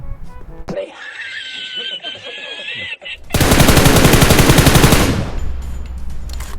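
Automatic gunfire in the mobile battle-royale game PUBG Mobile breaks out as a loud, sustained rapid burst lasting about two seconds, preceded by laughter and chatter and followed by quieter game sounds.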